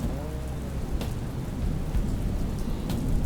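A thunderstorm with steady, heavy rain and low rolling thunder, with a few sharper cracks breaking through the constant downpour, with no voices.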